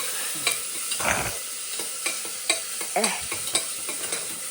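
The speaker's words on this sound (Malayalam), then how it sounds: "നമ്മൾ നന്നായിട്ട് ഇളക്കി കൊടുക്കും. കടുക് പറ കടുക് പറ കടുക് പറ." Mustard seeds fry in a pan under a constant sizzle while a utensil stirs, with sharp scattered pops and scraping strokes close by.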